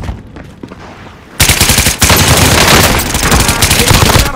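Rapid automatic gunfire from Call of Duty: Warzone, loud and close, starting sharply after a quieter stretch and continuing as dense sustained bursts, with a voice briefly audible beneath.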